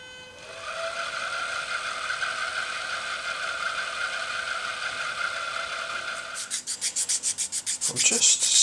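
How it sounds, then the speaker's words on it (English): Sanding the edges of a guitar pickup cover by hand: a steady, close rasping rub for several seconds, then a run of quick rhythmic back-and-forth strokes, with no talk. "I'm just sanding the edges of this pickup cover"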